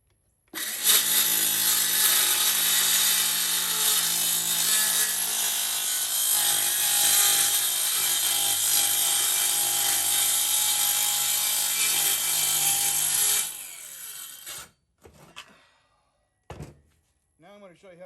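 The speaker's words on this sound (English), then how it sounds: "That is a plunge cut." A circular saw plunging into wood runs loud and steady for about thirteen seconds with a high whine, then cuts off abruptly, followed by a few faint knocks and handling sounds.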